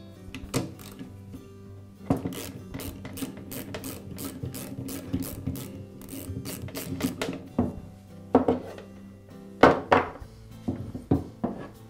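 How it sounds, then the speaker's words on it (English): A ratchet clicks in quick bursts while removing the soap hose and idler assembly from a Ryobi pressure washer during a pump replacement, heard close with rapid pawl ticks, pauses and a few metallic thunks, with no talk. "now I'll remove the soap hose and the idler assembly"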